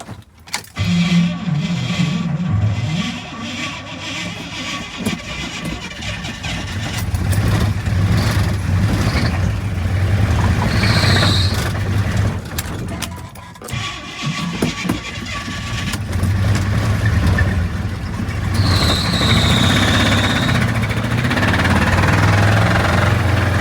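A worn 350 small-block V8 cranks and fires, then runs with a loud, rough, rumbling idle up close, the engine note swelling and dipping with a brief drop midway and a few faint squeals over it.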